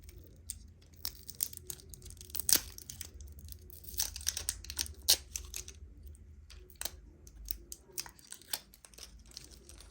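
Plastic and paper packaging around lip gloss tubes is torn and crinkled open by hand, a series of soft close rustles, crackles and sharp clicks without speech.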